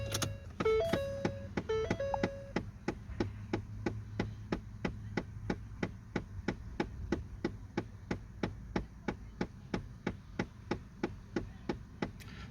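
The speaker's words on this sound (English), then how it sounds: "There's that clicking is the actuator for the AC." A car's AC actuator clicks steadily at roughly two per second for the whole stretch, a sharp, close, regular ticking from a vehicle sitting with the ignition on, after a few brief electronic chimes at the start.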